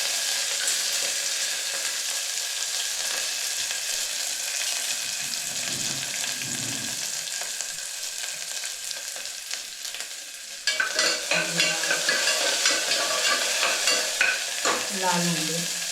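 Onion and curry leaves frying in a mustard-seed tempering give a steady hiss that turns into louder, crackling sizzles with spatters partway through, close by and without talk.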